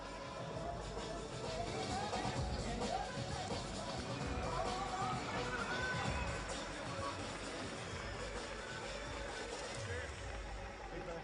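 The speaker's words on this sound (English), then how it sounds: "Lunga just receiving a round of applause from this Moscow crowd." A Moscow crowd at an M-1 Challenge fight applauds fighter Alexander Lunga in the ring, a steady broad wash of clapping and crowd noise with no clear breaks across the whole stretch.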